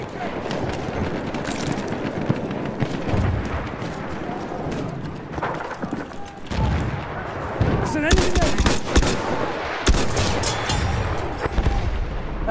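Enemy gunfire in the World War I shooter Battlefield 1: dense, continuous bursts of rifle and machine-gun fire with sharp cracks, loud and close amid battle chaos, with game voice callouts mixed in.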